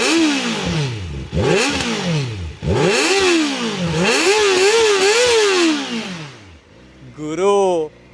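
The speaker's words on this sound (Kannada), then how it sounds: "ಇವಾಗ ಫಸ್ಟ್ ಒಂದ್ಸಲ ನಾವು ಗಾಡಿದು ಎಕ್ಸಾಸ್ಟ್ ನೋಟ್ ಕೇಳೋಣ" Kawasaki ZX4R 400cc sport bike revving hard in a run of rising and falling bursts, the high-pitched inline-four exhaust note climbing and dropping several times, loud and close, ending in a short final blip after a brief lull.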